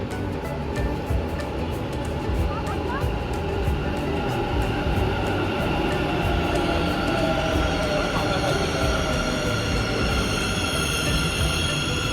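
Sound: metro train arriving at station in Bangalore

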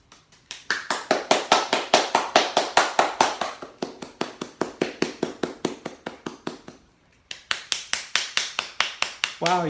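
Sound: clapping palm to palm and fingers on palm

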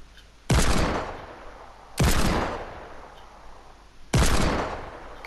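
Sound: hand cannon gunshots in Fortnite Battle Royale video game

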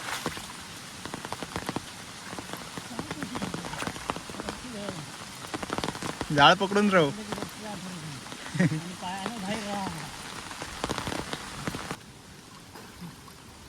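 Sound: heavy rain falling on river

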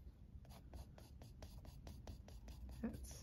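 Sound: pencil drawing lines of a cube on paper

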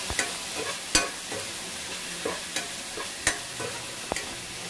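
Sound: mixing vegetables for biryani in a pot

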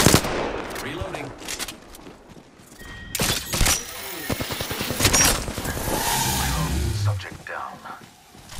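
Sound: gunfire in a video game

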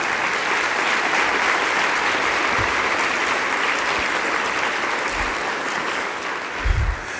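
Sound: audience applause for Mr. DeNeen

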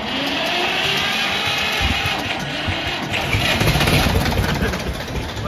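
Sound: Escort tractor engine starting with self-starter

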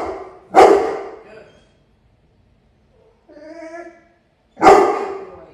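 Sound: residential guard dog warning barking at decoy

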